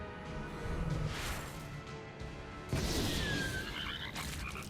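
Cartoonish frog croaks from the Eternal card game as cards are turned into frogs, loud and layered with whooshing effects and game music, no talking.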